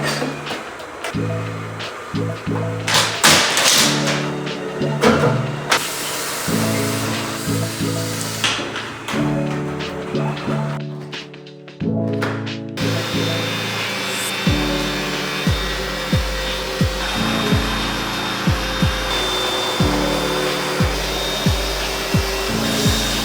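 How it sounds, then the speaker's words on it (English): Carpet cleaner deep cleaning household carpets: a loud, steady motor drone with repeated surging strokes and bumps as it is pushed back and forth, close up and continuous, with no talking. "It's the day when I deep clean the carpets in all of the rooms."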